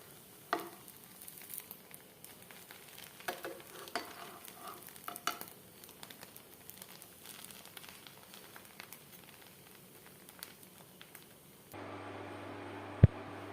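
Stuffed buns toast in ghee in a pan, a soft, low sizzle with faint crackles and occasional turning clatter, quiet throughout and ending in a short, louder steady hum with a sharp click.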